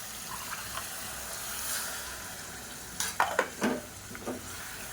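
A spoon stirs a curry of coconut paste and water in a pressure cooker, a steady wet scraping with a soft sizzle and several sharper clinks and scrapes toward the end, fairly close and with no talking.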